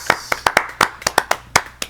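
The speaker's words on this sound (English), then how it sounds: "clap it up for the new babies" Roughly ten sharp, separate claps ring out in an uneven rhythm, close and loud, from a small group on a casual talk show.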